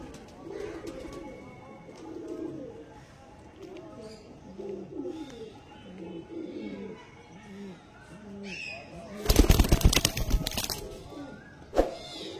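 A pair of star kalanka pigeons cooing in soft repeated low phrases, under someone talking, with a sharp clattering burst near the end.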